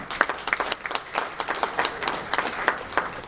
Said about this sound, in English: Marietta DiCamillo is clapping because she's part of the pool advisory committee